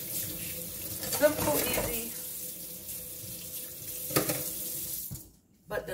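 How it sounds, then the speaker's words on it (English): Water runs steadily from a kitchen sink tap as hands are washed, with a close, continuous splashing that briefly cuts off near the end. A person says a few words over it. "let me wash my hands"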